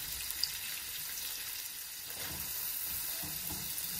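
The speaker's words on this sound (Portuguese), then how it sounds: "Agora eu vou saltear aqui um pouco." Sliced onions, two medium ones cut in quarters, sizzle steadily in a hot pan for fried rice, a continuous close frying hiss with faint stirring scrapes and no talking.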